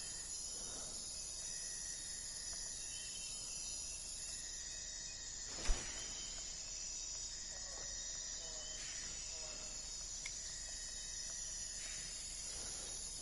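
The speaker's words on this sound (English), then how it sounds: "It all glitches out. It sounds like cicadas in your ear. It just keeps casting." A glitched, endlessly repeating fishing cast in the video game Fishing Planet makes a cicada-like buzzing drone, with faint chirring bands coming and going over a steady hiss and one sharp click midway.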